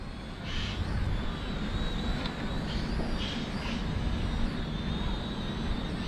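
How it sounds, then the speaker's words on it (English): Small E68 camera toy drone in flight outdoors, a steady high-pitched whine of tiny propellers droning continuously at moderate distance over a broad background rumble of wind and ambient noise. "it does fly pretty nice. Pretty fun drone."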